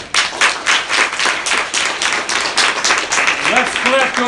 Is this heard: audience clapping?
yes